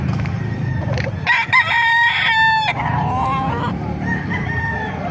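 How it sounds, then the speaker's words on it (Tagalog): A white Kelso gamecock rooster at the Bocaue market in the Philippines gives one loud, nearby crow with a strained, wavering pitch, framed by clucking and a low murmur of crowd noise. "Napakagandang white kelso nito."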